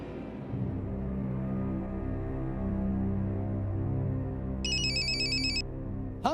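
A telephone trills in a short electronic burst near the end, cutting through a steady background of dramatic music.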